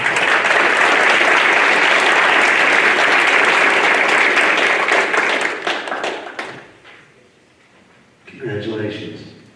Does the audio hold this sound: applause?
yes